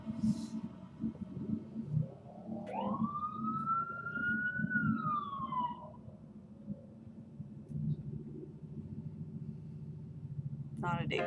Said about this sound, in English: Not a day goes by I don't hear police or ambulance sirens.